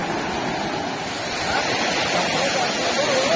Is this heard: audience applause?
no